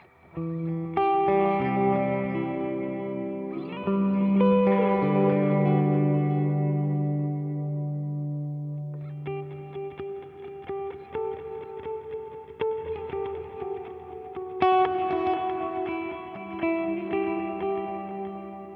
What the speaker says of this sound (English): this foot switch right here cranks up the reverb